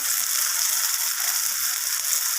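Chili and cumin powder frying in hot oil with turmeric for a hilsa fish curry with potato and eggplant, a steady bright sizzle that holds evenly throughout, close and continuous with no talk.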